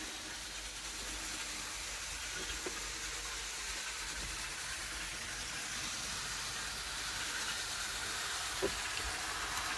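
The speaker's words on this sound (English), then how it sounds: "So just the 3 trains running around just to show you." A steady, faint whirring rumble of small trains running continuously on track, with a soft hiss and an occasional click.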